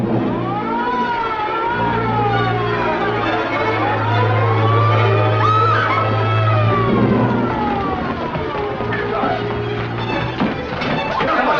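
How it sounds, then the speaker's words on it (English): An ambulance or police car siren wails continuously, rising and falling, loud over busy traffic noise. "It's a siren. Probably an ambulance or a police car."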